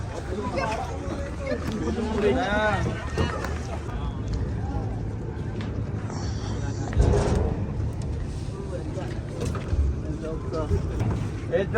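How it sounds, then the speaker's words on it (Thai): Boat on the Nile at Luxor, with a steady low engine drone and water noise under passing voices and chatter, a louder surge midway. "นี่เราก็กำลังจะขึ้นเรือครับผม"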